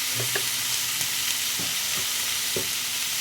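Mixed vegetables and rohu fish pieces with salt, turmeric and red chili powder being stirred in a hot pan, a loud continuous sizzle broken by several distinct scraping strokes of the spatula.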